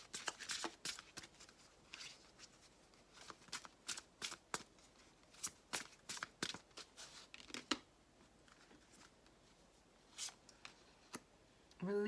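Oversized tarot cards shuffled by hand, with sharp intermittent slaps and riffles in irregular bursts, close and fairly quiet, with long gaps of near silence between clusters.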